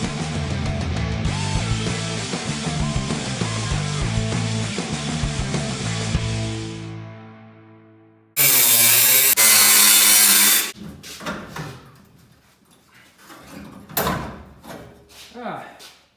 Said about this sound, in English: There's a couple spot welds down here and a couple up here we'll drill out.